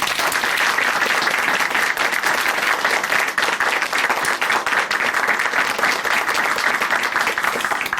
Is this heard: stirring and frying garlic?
no